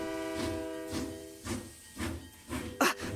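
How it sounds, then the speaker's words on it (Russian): A departing steam train in an animated Russian series lets off repeated bursts of hissing steam in a regular chuffing rhythm, with a sustained tonal hum underneath and a sharper, louder burst near the end. "Поезд отходит!"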